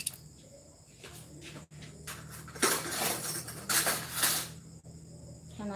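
Dishes, pots and cutlery clink and clatter during dishwashing in a home kitchen, with bursts of busy clattering in the middle over a steady low hum, close by and with no talking.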